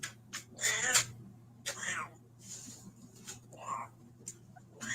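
An upset cat gives several short, strained meows, fairly quiet and spaced out, mixed with soft whispered voices nearby.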